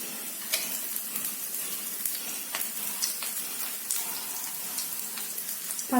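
Shallots and dried red chillies sizzle and crackle in hot coconut oil in a pan, with steady frying hiss, scattered pops and occasional stirring clinks, close and moderately loud.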